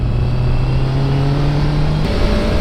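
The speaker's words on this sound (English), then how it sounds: "The engine likes to rev, and being a 650 inline 4 with 94 horsepower" A 2019 Honda CBR650R with a 650 cc, 94-horsepower inline-four engine holds a loud, steady high rev, then drops sharply as the throttle eases off. The engine is heard up close, with no talking.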